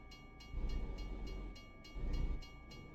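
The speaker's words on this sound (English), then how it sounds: "Ooh, train." A train passing during a road trip in Canada: a low, rumbling roar that swells twice in rhythmic pulses, with repeated clattering bursts over a steady background, moderately faint.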